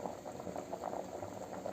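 Avarekai beans bubble softly in a cooking pot on the stove, a faint, continuous patter of boiling water with no voices.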